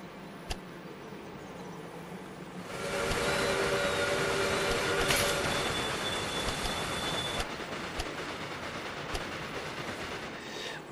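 A train in the video game Railway Empire 2 rumbles along the rails with a steady roar, swelling louder as it passes, with squealing wheels and metallic clatter.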